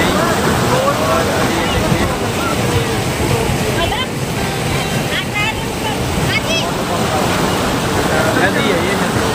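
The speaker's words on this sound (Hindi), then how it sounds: "नदी है ये" A river near the Chamunda Devi Temple in Kangra rushes with a continuous loud broadband roar of flowing water and wind, steady throughout, with faint distant voices.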